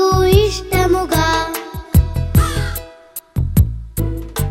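Crow caws ring out in a cheerful Telugu children's cartoon song, repeated bursts over bright melodic music with a steady rhythm, loud and close throughout.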